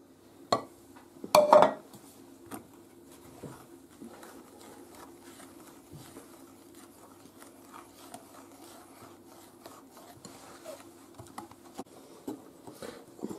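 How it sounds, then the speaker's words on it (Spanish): Coffee and almond mousse mixture being stirred after cream is added: soft, steady rubbing and scraping with faint utensil clicks, a couple of louder knocks near the start, then a quiet continuous mixing texture. "echamos la nata. Y lo seguimos mezclando"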